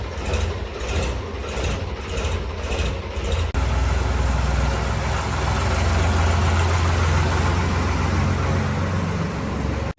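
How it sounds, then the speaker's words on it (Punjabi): A tractor's heavy diesel engine idles steadily at close range, a deep continuous rumble with a shift in tone a few seconds in. "ਚੱਲੇ ਹੁਣ ਖੇਤ ਨੂੰ ਟਰੈਕਟਰ ਲੈ ਕੇ"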